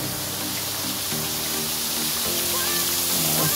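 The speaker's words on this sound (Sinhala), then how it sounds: "චුට්ට දුරක් ආවට පස්සේ පොඩි දියල්ලක් තියෙනවා." A small waterfall beside a railway line in the hills near Kandy, heard as a steady, dense rush of falling water that fills the whole clip at an even, fairly loud level.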